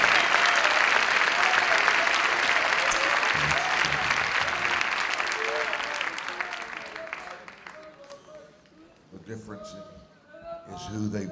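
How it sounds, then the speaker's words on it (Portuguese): A church audience breaks into loud, sustained applause that carries on for several seconds, then thins and fades, with scattered claps and voices emerging as it dies down. "Dê um aplauso bem forte a Ele."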